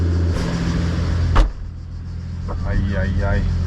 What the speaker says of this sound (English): let me just put the windows down